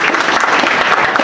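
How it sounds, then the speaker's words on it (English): An audience claps steadily at a tech event in Kenya, dense applause holding at an even level for the whole short stretch with no voices over it. "Please clap for Simba."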